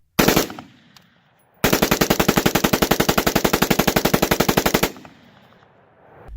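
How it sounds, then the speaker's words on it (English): An AR-15 rifle fitted with a bump stock fires: one short burst, a pause, then a long loud stream of rapid evenly spaced shots lasting over three seconds before it stops. "And here it is again, with the currently fully legal bump stock installed on the AR-15."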